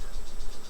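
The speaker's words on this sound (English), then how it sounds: "oh my goodness, bees. Look at the bee swarm." A swarm of bees near a tiki bar under construction in the Philippines gives a dense, continuous buzz over a low rumble, close and steady with no talking.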